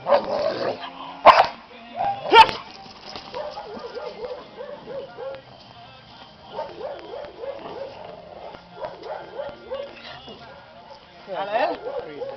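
A dog named King barks, growls and whimpers in short bursts close by, with loud yips standing out, while people talk over and between the barking.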